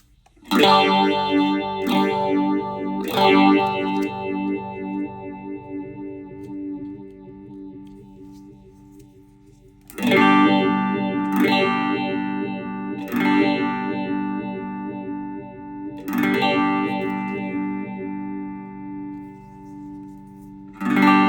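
An electric guitar plays repeated strummed chords through a MOVALL Van Golem phaser pedal, a swirling, sweeping effect, bursts of attack settling into a wobbling sustain.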